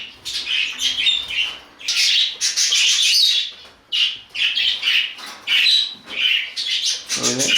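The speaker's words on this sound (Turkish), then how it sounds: "Çok güzel bir muhabbet kuşu oldu yavru kuşumuz" A young budgerigar in a new cage chirps and tweets rapidly in loud, close bursts with brief pauses, occasionally squawking.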